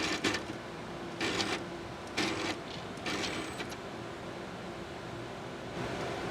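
A gas chromatograph autosampler robot draws a sample up into its needle and tubing, giving short mechanical whirring bursts separated by pauses over a steady background hum.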